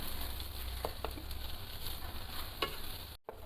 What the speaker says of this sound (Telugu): ఇది కూడా బాగా కలిపేసి ఒక్క 2 నిమిషాల పాటు లో ఫ్లేమ్లో వేయించండి.